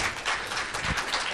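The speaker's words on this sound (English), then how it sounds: "a huge round of applause for Lady Gail Gillingham Wylie" An audience breaks into applause for a woman on stage, a short, dense burst of many hands clapping at a moderate, even level.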